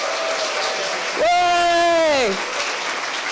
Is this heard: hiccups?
no